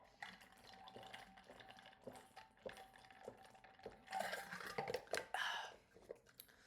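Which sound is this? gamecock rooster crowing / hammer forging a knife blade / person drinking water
person drinking water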